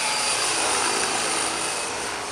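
An electric radio-controlled helicopter, a 600-size model, flies with a loud, steady high-pitched whine and whir that fades slightly toward the end.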